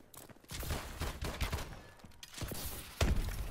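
Gunfire in a first-person shooter video game during a sniper no-scope attempt, a rapid cluster of sharp, punchy shots and impacts at close range, loud and dense, with no talk.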